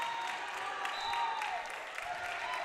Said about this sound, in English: West G's crowd comes to their feet for a standing ovation.